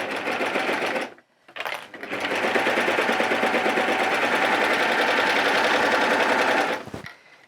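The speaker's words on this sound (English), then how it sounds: "on my serger, I'm going to serge across the top of both these shoulder seams" Serger running fast across the shoulder seams of woven coveralls, a loud, close, steady mechanical whir that stops briefly twice before resuming in one long continuous run.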